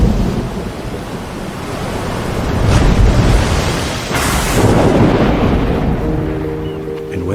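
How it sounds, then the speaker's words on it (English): Heavy rain pours down as thunder rolls and rumbles, swelling loudly in the middle before easing off. "But then a storm began to rise, and the sky darkened."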